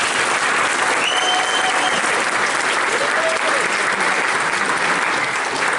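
A school concert band audience claps steadily and loudly at a spring concert, a full sustained round of applause from start to finish with a few faint voices mixed in.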